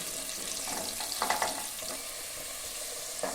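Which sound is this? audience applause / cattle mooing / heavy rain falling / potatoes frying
potatoes frying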